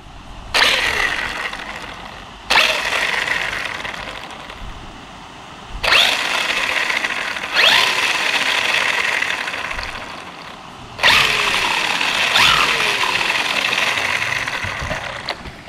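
An MJX Hyper Go 16207 RC car's electric motor whines up in repeated throttle bursts, each rising sharply and holding before dropping, loud and close, about five pulls with no talk.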